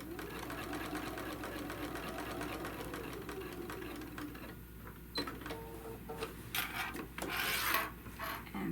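Sewing machine stitching across a tote bag handle, a steady mechanical whir running throughout, with a brief pause and some handling rustle and clatter near the end.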